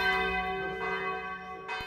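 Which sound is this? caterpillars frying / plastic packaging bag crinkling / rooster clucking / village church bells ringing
village church bells ringing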